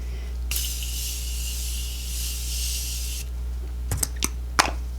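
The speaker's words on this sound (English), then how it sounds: "I'm going to use my Morphe spray." A Morphe makeup setting spray hisses in a steady fine mist for about three seconds over a low background hum, followed by a few sharp clicks.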